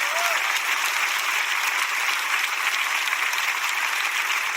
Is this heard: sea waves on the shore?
no